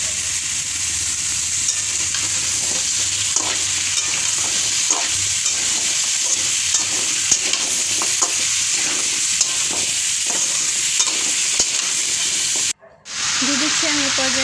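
Cut sweet pumpkin pieces stirred and fried with onions in a pan, a steady close sizzle with soft, regular scrapes of the spatula, ending in a brief dropout and then a short faint sound.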